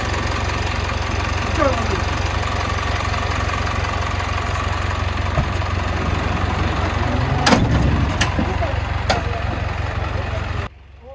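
The diesel engine of a 2.5-ton wing body truck idles smoothly and steadily, a close, even low rumble running throughout with a few brief clicks and knocks before it cuts off at the end.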